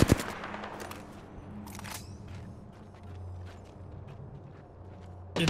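Rapid gunfire bursts in a sci-fi shooter video game, crackling in repeated volleys over a steady low engine-like hum, with a sharp loud shot at the start and another near the end.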